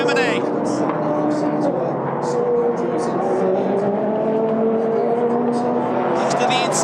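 Race cars at the Rolex 24 at Daytona roaring through the tri-oval, a loud sustained engine drone with shifting pitch as the cars close in, with a commentator talking excitedly over it throughout.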